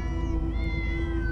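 Several cats in Minecraft: Story Mode meow together, overlapping tonal cries layered over a constant loud background, with no talking.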